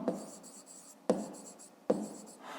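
Pen writing by hand on paper, close and fairly quiet, in three short bursts of scratchy strokes, each beginning with a soft tap.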